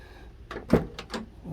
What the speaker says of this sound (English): Old door works pretty good.